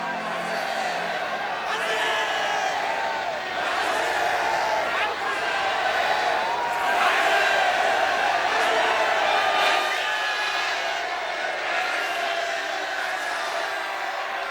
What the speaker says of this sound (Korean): 전국 7개 도시에서 함성이 울려 퍼졌다